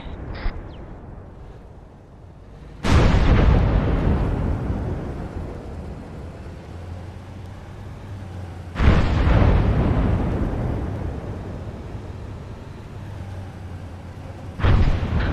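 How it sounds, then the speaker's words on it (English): Tank shells fired in a military shooter game: three heavy, booming blasts spaced several seconds apart, each with a long rolling decay into low rumbling ambience. "Tank shooting."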